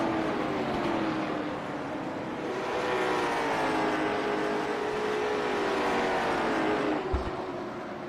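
Race cars circling under caution at the Murica 150, a steady droning pack of engines at moderate speed, continuous and fairly loud with a brief knock near the end.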